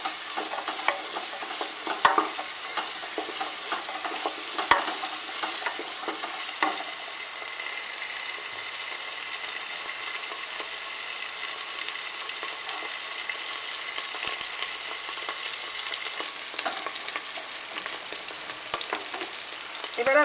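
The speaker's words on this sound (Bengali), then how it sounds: "এবার এটাকে আমি 1 মিনিট মতো নেড়ে চেড়ে তারপর মাংসটা দিয়ে দেব।" Spices sizzle steadily in a pan ahead of the marinated mutton for kasha mangsho. A constant, even frying hiss runs throughout, with a few utensil knocks and stirring scrapes early on, near and alone.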